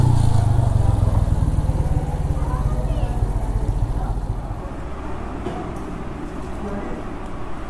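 A motorcycle on a road trip idles with a low steady engine rumble, then the note drops and softens as it is brought to a stop and parked, with traffic noise and voices around.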